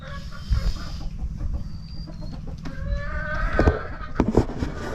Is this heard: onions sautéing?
no